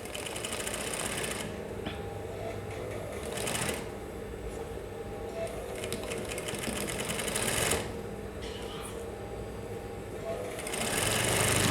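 A sewing machine runs in short, steady bursts as it slowly stitches along the curve of a bustier, a continuous mechanical whir with brief pauses where the fabric is turned.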